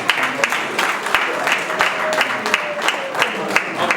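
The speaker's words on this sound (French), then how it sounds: "Est-ce qu'on peut applaudir pour le Seigneur?" Congregation applauding at a church memorial tribute in Paris, a steady wash of many hands clapping with sharper individual claps poking through, fairly close and continuous for the whole stretch, with a few faint voices mixed in.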